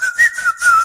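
A person whistles in imitation of a bird-call phone ringtone, producing three or four short clear tweeting notes in quick succession, close and loud.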